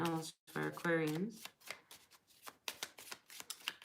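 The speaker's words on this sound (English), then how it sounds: "I just feel like I have to shuffle one more time." A person talks while tarot cards are shuffled by hand close by, the crisp card snaps coming in a quick run after the voice.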